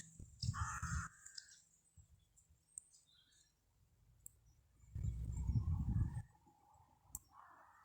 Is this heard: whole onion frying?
no